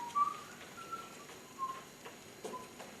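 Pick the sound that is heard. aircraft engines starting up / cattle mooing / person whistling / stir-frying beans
person whistling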